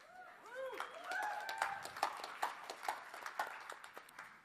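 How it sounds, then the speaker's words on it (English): An audience claps at a social media training seminar: a burst of rhythmic clapping near and fairly faint, with voices talking and cheering over it. "Now you're clapping, which is awesome."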